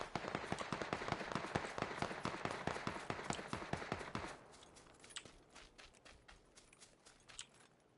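A gun set to single fire in PUBG fires a quick, steady series of sharp individual shots, loud at first and then thinning into fainter, scattered reports.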